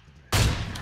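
A single loud gunshot in PUBG Mobile lands a headshot, firing abruptly after a quiet moment and ringing out with a sustained echoing tail.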